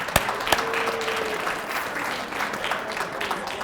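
Audience clapping at the opening ceremony of a coin show, the ANA National Money Show in Atlanta, a steady moderate patter with a few sharp louder claps near the start, sustained throughout.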